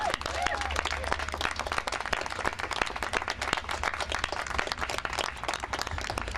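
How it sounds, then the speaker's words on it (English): Press conference audience on public banking applauds, a steady stream of clapping heard over outdoor-sounding background noise with some voices mixed in. "Let's give a round of applause to our quarterback on this issue"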